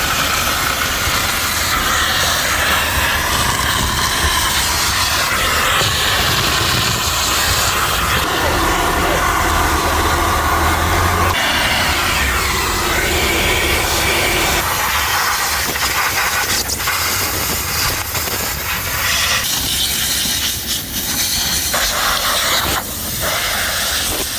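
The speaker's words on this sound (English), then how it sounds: "This is what we call the blow off. It's all blown off." Compressed air blasts across a car engine bay during cleaning, a loud, unbroken hiss that shifts in pitch and texture as the nozzle moves, filling the whole stretch with no speech.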